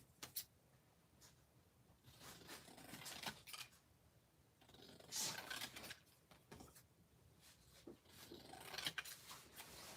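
Scissors snip through junk journal paper in a series of close, crisp cuts and rustles, with faint paper handling between the snips.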